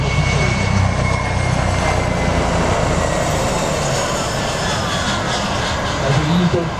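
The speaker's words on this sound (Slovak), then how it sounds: "A teraz momentálne po tom prielete kapitán pridal takmer plný plyn" A large airplane of about 60 tonnes roars past at an air show near Nitra-Janíkovce with its engines at nearly full throttle, a loud sustained engine drone that swells slightly toward the end, under faint crowd or announcer noise.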